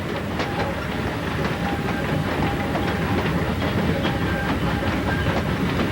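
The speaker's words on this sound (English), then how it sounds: "The locomotive passes the upper yard in Cranberry." An ET&WNC Tweetsie locomotive runs past the upper yard at Cranberry, a continuous loud rumble with rhythmic rail clatter and faint hissing throughout.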